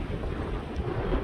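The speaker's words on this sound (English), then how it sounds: "It hasn't rained, it's just wind." Strong gusting wind in Des Moines, Iowa, with no rain falling, roars steadily and low against the microphone, a dense rumbling buffet that swells slightly without pause.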